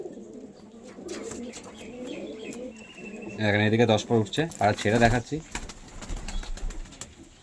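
Pigeons cooing at a home pigeon sale in Andhra, a loud close run of throaty coos in the middle after someone talks, followed by fluttering and scattered bird sounds.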